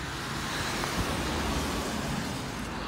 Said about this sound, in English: Apart from all the cars,